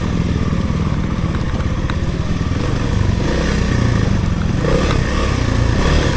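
A Kawasaki KLX300R dirt bike engine runs steadily at low revs while being ridden, a continuous close, loud motorcycle drone with rough mechanical clatter throughout.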